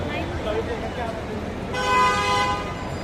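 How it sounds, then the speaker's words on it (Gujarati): A car horn blares in a sustained honk partway through, over steady traffic noise and background chatter on a London street. "હોરન મારવાની મનાઈ છે પણ શું છે કે તોય મારે છે"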